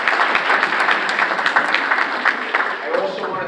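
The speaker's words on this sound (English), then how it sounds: "Let's give her a big hand of applause." Crowd applause for an assembly member at a Bronx county political meeting, dense clapping from a room of people throughout, with brief voices mixed in beneath it.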